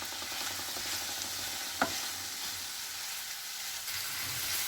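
Spices being stirred into a chicken quiche filling in a pan, a soft continuous sizzle with light scraping strokes and one brief sharp knock near the middle, fairly quiet.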